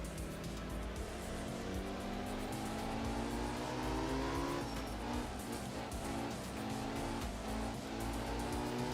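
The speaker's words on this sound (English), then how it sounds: "this is a straight 6, not a V6" Straight-six rally car engine in Art of Rally, revving loudly and steadily with rising harmonic pitch as it accelerates, brief gear shift dips, close and continuous with no talk.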